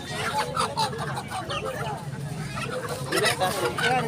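Chickens clucking at a busy village poultry market in Tangail, Bangladesh, where ducks are also sold; overlapping close clucks and squawks under nearby chatter, steady and dense throughout.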